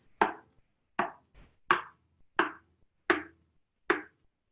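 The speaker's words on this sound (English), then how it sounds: "we're going to knock right below the sound hole, just like this" Six sharp hollow knocks on a ukulele body just below the sound hole, evenly paced about once every three-quarters of a second, close and clear.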